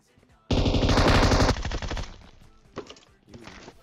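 Groza and MK14 rifles fire on full auto in PUBG, a loud rapid burst lasting about a second that thins into scattered shots and fading reports.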